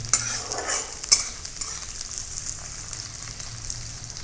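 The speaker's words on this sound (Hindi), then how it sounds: "अब हम इसमें प्याज डालेंगे पहले।" Onions sizzle steadily in hot oil in a home kitchen, a continuous frying hiss with a couple of sharper clatters of stirring near the start, close and moderately loud with no talking.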